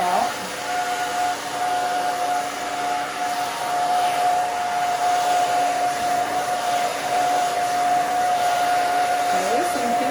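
Handheld hair dryer blowing steadily while drying hair during a women's bob cut, a continuous loud whirring whine with a high tonal hum across the whole stretch.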